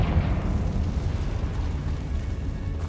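The Confringo fire spell goes off in Hogwarts Legacy as a rumbling blast with a crackling burst, dense low booms that keep churning for a few seconds, loud and near, with no voices.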